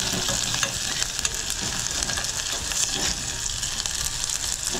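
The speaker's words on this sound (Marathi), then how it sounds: "आलं लसूणची पेस्ट आहे, 2 लसूणच्या पाकळ्या घेतल्या होत्या आणि आलं चांगलं लाल होईपर्यंत परतून घेतो आहे." Ginger-garlic paste and onion sauté in hot oil for moong dal khichdi, a close, dense, continuous sizzle with stirring scrapes and small crackles, without speech.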